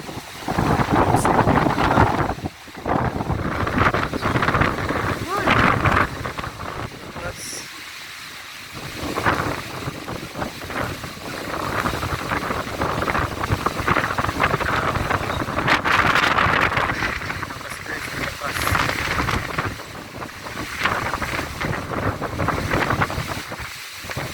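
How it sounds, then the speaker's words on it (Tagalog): A strong typhoon storm with heavy rain and powerful wind, heard from up high during signal number 2 in Manila. Loud gusts roar and buffet the microphone with shifting intensity over a constant hiss of rain, with no voices. "Lakas ng ulan, grabe. Lakas ng hangin, guys."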